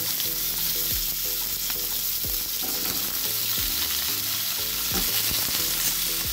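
Something fries with cloves in a pan, giving a loud, steady sizzle close up, with repeated scraping stirs and clinks of a utensil, and no talking.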